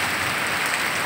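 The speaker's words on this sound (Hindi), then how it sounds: "कैसे झमाझम बारिश" Heavy rain pours down during a stormy evening with lightning, making a dense, continuous hiss of drops on surfaces that stays loud and even throughout.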